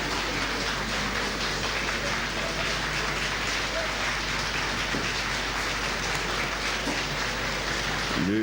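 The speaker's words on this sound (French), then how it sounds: "alors que les applaudissements fusent de tous côtés" Applause breaks out across a national council hall in 1983 as the head of state enters, a dense, continuous patter of many hands that holds steady throughout, with no voices standing out.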